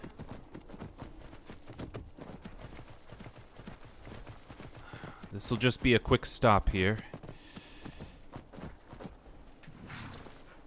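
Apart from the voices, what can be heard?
horse hooves while riding, from video game Skyrim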